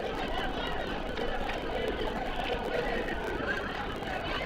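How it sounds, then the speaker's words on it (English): Crowd at a football match in Norton, a steady, even murmur of many distant voices chatting, with no cheering or sharp peaks. "The crowd is growing slowly."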